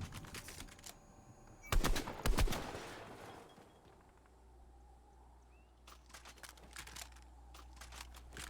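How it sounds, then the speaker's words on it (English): Distant bursts of video game gunfire crack in short volleys, two louder shots early, then a faint rapid rattle of repeated shots near the end over a quiet background. "There's more gunfire somewhere."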